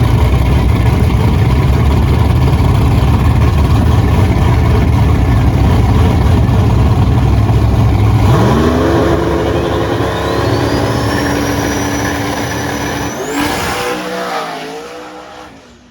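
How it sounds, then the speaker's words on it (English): A drag race car launches hard on a test pass at a drag strip in Michigan: a loud, close engine roar, then a rising whine as it pulls away and fades into the distance. "Test pass 2, we were able to get a really solid launch with the car"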